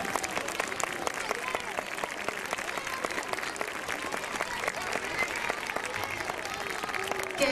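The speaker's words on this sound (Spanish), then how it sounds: "¡Fuerte aplauso para ellos!" Crowd applause at a Three Kings parade, dense steady clapping from many hands filling the whole stretch at an even level, with voices mixed into the crowd.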